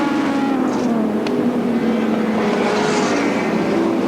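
Touring cars from the 1985 Australian Touring Car Championship at Adelaide International Raceway roar past as one overtakes another, a loud sustained engine drone shifting pitch throughout.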